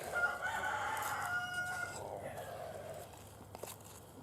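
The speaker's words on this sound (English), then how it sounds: "chickens are going crazy, man" Backyard chickens cluck and a rooster crows loudly and close at an off-grid homestead in snowy country, a drawn-out crow followed by scattered clucks and softer bird calls.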